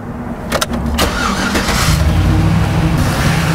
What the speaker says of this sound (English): we need to start the vehicle